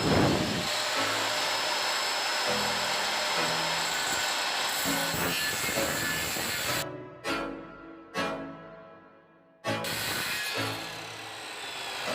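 A circular saw runs along a DIY guide, cutting 3/4 marine plywood: a loud, close, sustained whining buzz, then several short cuts with the motor dropping out and restarting near the end, no talking.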